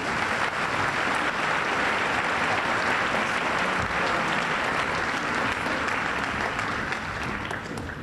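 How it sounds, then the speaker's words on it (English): Loud, dense audience applause fills a 1999 senior academic recognition ceremony for students, a sustained roar of many hands clapping evenly throughout with no speech over it. "Let's give all these students one round of applause."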